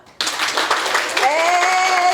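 After a moment of quiet, an audience at a women's tourism entrepreneurship workshop bursts into close, lively hand clapping that carries on steadily, with a voice rising through it toward the end.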